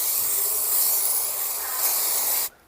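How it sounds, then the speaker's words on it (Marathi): Chipku fruit fly spray is sprayed onto sticky paper in one long continuous hissing burst that runs steadily, then cuts off abruptly at the end, with no voices. "त्या पद्धतीने तुम्हाला हे त्या कागदावरती स्प्रे करायचं आहे."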